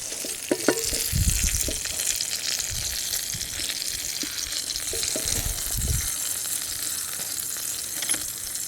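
Bullet tuna fish frying in a pan in a village kitchen: a steady, close sizzle with a few soft knocks and bumps from the pan. No one speaks.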